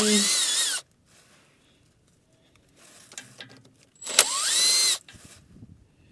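Power tool whirring on oil pan bolts of a Dodge Intrepid, two loud bursts of spinning, the first about a second and the second near the end, with quiet clinks and shop noise between.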